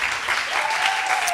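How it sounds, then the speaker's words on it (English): An audience claps throughout at a human rights event in a tent in Denmark, dense and steady applause filling the short span without pause. "In Denmark we clap."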